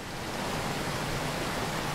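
Steady, dense roar of an African waterfall in the dry season, continuous broadband rushing water heard alone at a moderate, even level.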